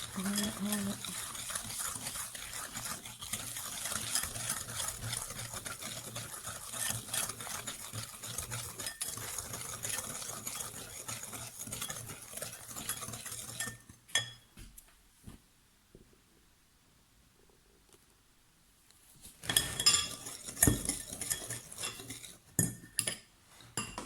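Sugar being stirred into brownie batter in a bowl, a steady scraping and clinking of utensil against the bowl for most of the clip before a quiet pause and a few final knocks.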